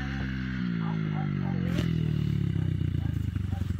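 A child's small motorbike shifts into third gear, its engine revving close by with a steady buzzing roar and a brief dip in pitch as the gear changes, and the throttle rises again afterwards.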